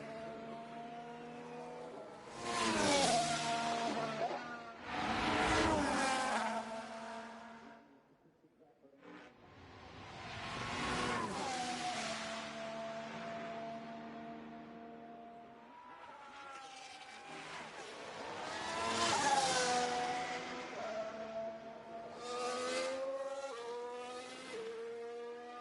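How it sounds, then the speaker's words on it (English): F1 race cars in F1 Manager 24 at the Lusail circuit roar past in several loud, rising-and-falling engine sweeps, one after another, with high revving whines dominating throughout. "We've got one of the McLarens whizzing through."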